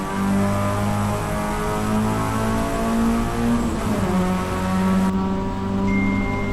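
Race car engine at Road America in a racing game, a loud steady harmonic drone rising and shifting in pitch as the car accelerates, with a gear change near the end.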